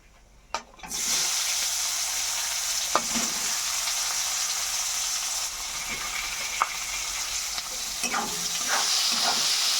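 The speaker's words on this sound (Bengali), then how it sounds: "পেঁয়াজটা ভাজা করে নিচ্ছি" Chopped onions fry in a pan with whole spices and cumin for a low-oil egg bhuna. A loud, steady sizzle sets in after a brief opening clatter, broken by occasional stirring clicks.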